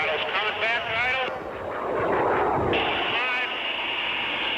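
An airshow airplane engine is throttled back to idle, its loud roar steadying and settling, with someone talking over the engine noise and radio-like crackle.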